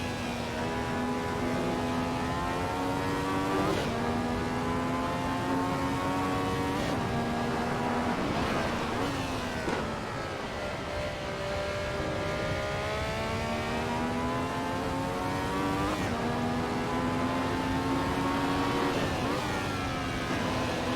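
A Ferrari 312T Formula 1 race car engine screams in Assetto Corsa, loud and continuous, its pitch climbing through each gear and dropping sharply at every upshift across a full lap with no talk.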